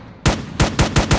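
Gunfire from weapons in the Roblox ACS Engine 2.0 game system: five loud, sharp shots in an uneven burst, each a broadband crack with a low thump, spaced roughly a quarter second apart.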